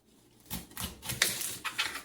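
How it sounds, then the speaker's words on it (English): A knife chopping a red onion on a cutting board, a quick run of soft sharp taps with uneven rhythm, close and faint, no speech. "to cut up a red onion"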